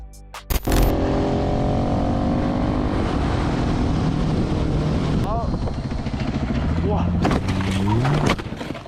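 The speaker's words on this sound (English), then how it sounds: "the biker made a big mistake by accelerating quickly on the road" A motorcycle engine roars loud and close as the bike speeds up quickly on the road, a continuous rising drone with brief tonal sweeps near the end.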